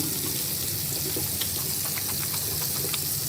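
Running tap water in a sink while getting ready to wash a face, a steady close hiss with small splashes and no talking.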